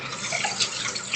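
Tap water running steadily into a terracotta brown sugar saver to soak it, a soft continuous splashing hiss at close range with no voices.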